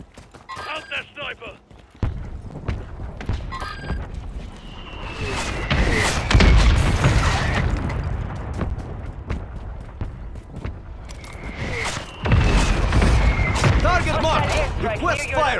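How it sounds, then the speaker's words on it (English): Mortar strike explosions in the Warzone video game land as heavy thuds and booms in a couple of bursts, mixed with gunfire, radio callouts and game voices. "Friendly mortar strike inbound."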